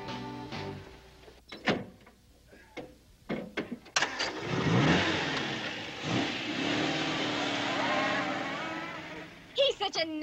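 A Triumph TR3 sports car engine starts with a few clicks and sputters, then revs up into a loud, sustained roar that holds before cutting off.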